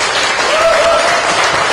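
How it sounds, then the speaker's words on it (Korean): Loud, dense applause from an audience at a Korean book concert and Bluebird Art Troupe performance, a steady wash of many hands clapping close by for the full stretch, with no voices. "우리 큰 격려의 박수 부탁드리겠습니다"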